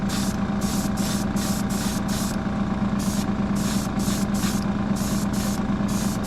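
Airbrush spraying Tamiya acrylic paint in light coats onto a plastic RC chassis: a steady close hiss with repeated short bursts of brighter spray over a constant low hum.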